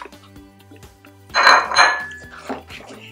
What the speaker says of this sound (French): je mets la viande, je mélange